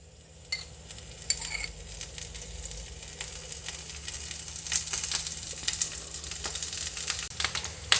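Capsicum rings fry with a little oil in a pan, giving a steady close sizzle under intermittent scraping and stirring clicks of a utensil, with no talk.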